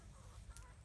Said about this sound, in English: Rhode Island red rooster, white American breast rooster and hens